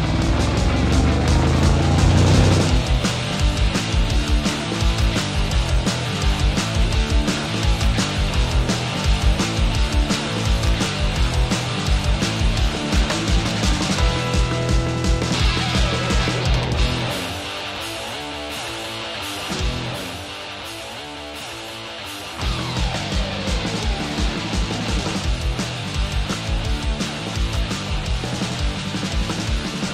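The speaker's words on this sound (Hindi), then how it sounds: "इसको स्पोर्ट प्लस मोड पे डाल दो, ताकि आप इंजन का पूरा ऑर्केस्ट्रा सुन सकते हैं।" A Mercedes-AMG S63 Coupe's twin-turbo V8, set to Sport Plus mode, revs hard and sustains a loud continuous roar, dipping briefly midway before climbing back to full volume, with no talking over it.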